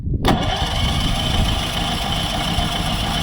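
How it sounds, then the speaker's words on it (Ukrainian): A petrol generator running on 95-octane fuel cranks briefly and catches, then settles into a loud, steady engine drone close by, with no talk over it. "все, бензин закачало і генератор запустився."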